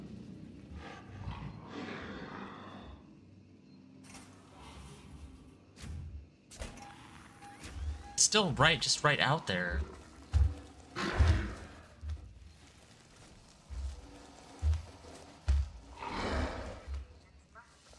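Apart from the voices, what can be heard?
alien growling nearby in video game Alien: Isolation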